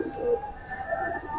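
Pigeons cooing nearby, soft low murmuring coos in a brief burst over a steady background hum.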